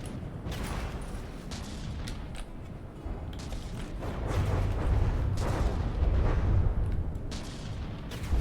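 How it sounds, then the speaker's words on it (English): Heavy explosion rumble and booming cannon fire from a tank battle in From the Depths, rough and continuous, swelling louder through the second half. "it sounds like something exploded"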